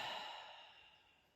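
A single long exhale during a Foundation Training floor exercise, breathy and airy, starting fairly strong and fading gradually away, close and alone with no talk.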